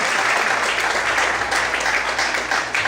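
Many hands in a church congregation clap in a sustained burst of applause during preaching, a full, close wash of sound that eases slightly toward the end.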